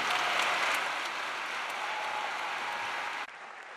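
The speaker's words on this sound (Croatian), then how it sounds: "Molim vas jedan veliki aplauz za sve dobitnike" Crowd at a music awards ceremony gives award winners a big round of applause, a steady wash of many clapping hands at moderate distance that tapers off near the end.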